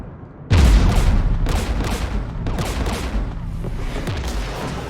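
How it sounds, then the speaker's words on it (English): Heavy gunfire and anti-aircraft fire from Geth guns by a jamming tower in Mass Effect 3 erupt abruptly after a brief lull, then roll on as a loud, dense barrage with repeated booming bursts. "We're taking fire."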